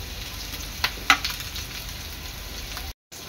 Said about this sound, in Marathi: दोन्ही साइडने आपल्या तुकड्या चांगल्या तळून घ्यायच्या आहेत।